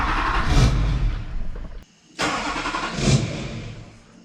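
Swapped LBZ Duramax diesel in a Yukon XL cranking and catching, a loud rough diesel clatter that drops out briefly and then fires up again, running unevenly up close with no talking.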